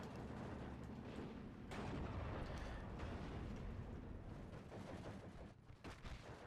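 Artillery fire in the WWII strategy game Steel Division 2, a 122 mm gun shelling an 81 mm mortar position: a dense, continuous rumble of booming shots and blasts with a sharper crack near the end, no talking.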